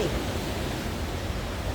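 Strong sea waves roll in at Kalim beach, a dense, steady roar of surf and wind that stays loud and close for the whole moment with no pauses.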